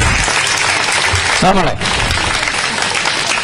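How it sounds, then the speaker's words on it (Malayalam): An audience claps for a girl called up to the stage at a Malayalam talk, steady dense applause filling the whole stretch while a brief voice cuts in near the middle. "ആ പ്രിയപ്പെട്ട കുട്ടിക്ക് ഒരു കയ്യടി കൊടുക്കുക."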